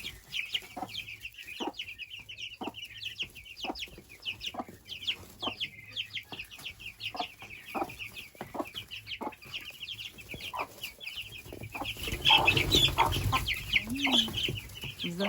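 Several white Araucana hens cluck steadily on a small farm, with rhythmic close clucks throughout and a louder flurry of activity near the end; someone talks briefly in the background.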